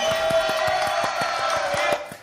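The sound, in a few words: audience applauding Pierre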